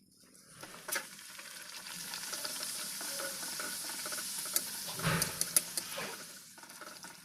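Stuffed snacks frying in hot oil at a small picnic give a steady dense sizzle and crackle, with a few louder pops and bubbling bursts near the end, heard alone without talk.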